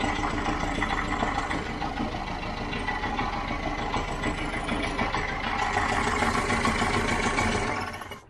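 A 1967 VW Type 3 Squareback engine runs steadily and evenly at a close, constant level for several seconds, then cuts off at the very end.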